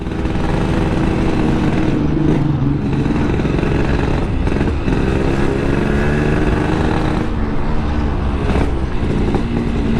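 A motorcycle engine restarts after stalling during a tire change and runs loudly and close, with its idle chugging and briefly rising a few times over ten seconds.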